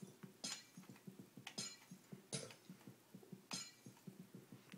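Glass blocks break in the game Minecraft: four sharp, bright shattering crashes spaced about a second apart, over a constant run of quieter clicking taps.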